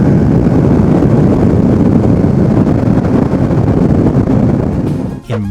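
Honda CBR600RR motorcycle ride captured on a Zoom H1n recorder, a steady broadband engine and wind roar throughout, loud and close, with a brief dip and a short tonal sweep near the end.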